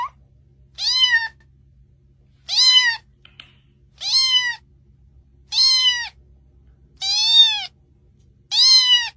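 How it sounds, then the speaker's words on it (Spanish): A kitten meows six times in a slow, even rhythm, each call a clear, close, rising-then-falling cry separated by near silence and a faint low hum. "solo vean a este gatito."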